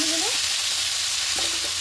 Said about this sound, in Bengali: এবার খুব ভালো করে একটু হালকা করে ভেজে নেব